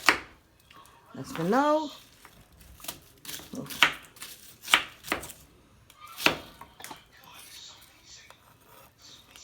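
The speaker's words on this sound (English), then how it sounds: "Cut some onion up." A knife chops onion on a board in a few sharp, close, irregular strikes, with a voice speaking briefly and quiet clatter in between.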